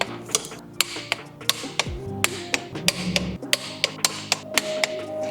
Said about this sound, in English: I'm gonna get those all torqued down to the OEM spec of 18 foot-pounds